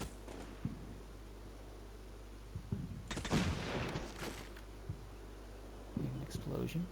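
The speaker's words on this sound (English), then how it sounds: "An explosion." Distant explosions and gunfire in Combat Mission: Shock Force 2, a few muffled booms and crackling bursts over a low steady hum, with people talking at times.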